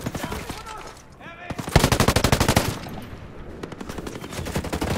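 Automatic gunfire in the video game Ghost Recon Breakpoint, a long rapid burst of loud shots with brief pauses, mixed with game noise and a voice talking.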